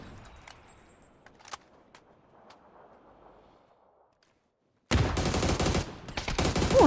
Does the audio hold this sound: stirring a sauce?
no